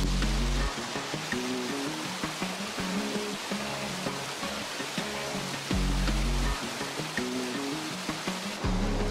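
Prut waterfall near Hoverla in the Carpathian mountains, a continuous broadband rush of falling water heard close and fairly loud, with brief intermittent low tones breaking in and no speech.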